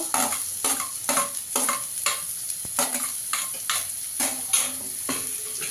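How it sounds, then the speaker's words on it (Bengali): Crushed ginger and garlic frying with browned onions, stirred in a pan with a spatula: a steady sizzle broken by regular scraping strokes about every half second, close and clear with no talking. "আদা রসুনটা দিয়ে একটু ভেজে নেব।"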